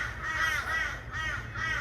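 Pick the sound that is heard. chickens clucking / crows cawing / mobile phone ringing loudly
crows cawing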